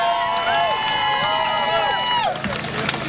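A crowd at an outdoor rally in London cheers loudly and continuously, with scattered shouts and applause; a tonal voice or whistle sweeps over the dense roar before it thins toward the end.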